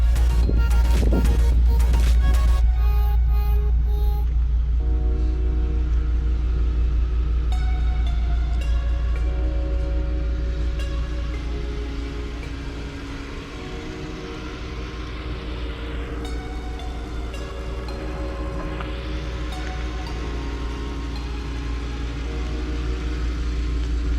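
A V10 Audi S6 idles on a cold start while warming up, a steady deep rumble that begins with a brief louder burst and then settles into an even, slowly fluctuating idle with no talk.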